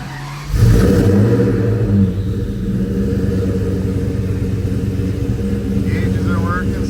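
A Terminator Cobra's engine bursts into a loud, close rumble and keeps revving steadily at a high idle, with a deep, throaty drone throughout.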